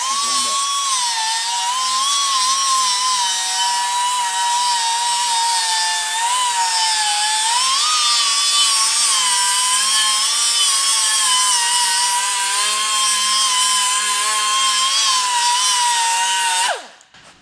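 Power tool with 36-grit abrasive grinding the chassis of a classic car: a loud, steady, high-pitched whine with a wavering tone that runs unbroken before winding down at the end.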